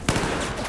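Rapid gunfire crackles through a Battlefield 4 match, a dense burst of shots sustained over under a second at close range, with no talking.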